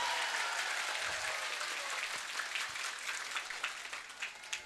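Audience applause at a live stage performance in Sadang, Kebumen: a dense, steady wash of many hands clapping throughout, fairly loud and without talk.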